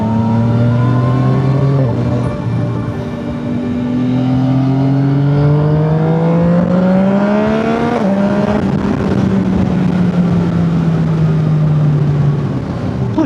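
A Yamaha MT-09 motorcycle engine accelerates hard on an English road, its pitch climbing steadily through the gears with a brief shift break before rising again, loud and close throughout with no talking.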